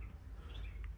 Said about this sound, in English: Obviously, don't mind the birds.